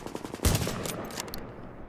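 Rapid automatic gunfire from a weapon in the video game The Division: a dense, loud burst of shots fired close, fading into a brief echoing tail.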